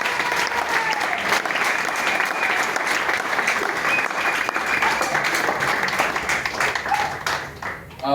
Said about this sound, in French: est-ce que nous pouvons les applaudir très très fort?